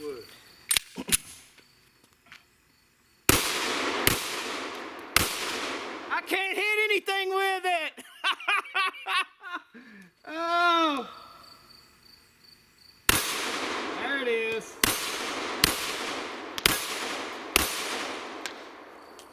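A Ruger 5.7 pistol fires a series of sharp, loud gunshots in irregular clusters at an outdoor shooting session, each crack ringing out briefly, with a person talking in the gaps between shots.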